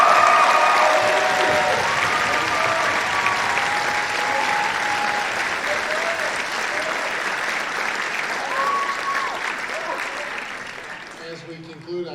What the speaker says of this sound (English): Please join me in a final round of applause for all of our outstanding students